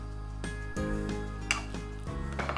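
Chicken and jujube dates are mixed in a bowl, giving a few close, distinct clinks and scrapes of a utensil against the dish, with no voices.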